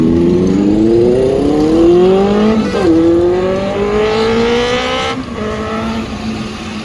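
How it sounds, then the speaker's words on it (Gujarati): A loud engine in a busy bazaar at Lal Darwaza in Ahmedabad revs hard with rising and falling pitch sweeps, close and dominant for the whole stretch with no talk over it. "જોજો હમણાં આ બાઇક જે અવાજ કાઢીનો અવાજ તેમ સાંભળો અવાજ કેવો જોરદારનો અવાજ છે"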